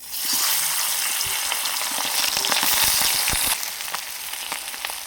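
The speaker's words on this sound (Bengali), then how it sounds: "তেলটা ভালোভাবে গরম হয়ে গেছে। এবার মাছগুলো দিয়ে দেবো।" Small fish, chara pona, frying in hot oil in a karahi: a loud, steady, close crackling sizzle that fills the whole stretch, with a few sharper pops and no talk.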